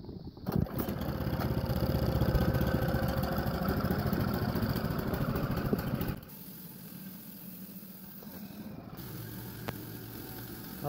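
A small engine fires on a pull cord and runs loud and steady for about six seconds, part of a log-cutting setup with water flowing, then cuts out, leaving quieter background noise.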